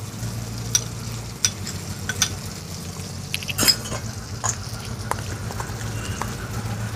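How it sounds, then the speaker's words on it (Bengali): Ginger, cumin, chili and garlic paste frying in hot oil gives a steady close sizzle, punctuated by scattered sharp spatters and utensil taps as it is stirred, with no talk. "आदा बाटा जिरे बाटा लंका बाटा रसुन बाटा तेलेर उपरे दिए देब।"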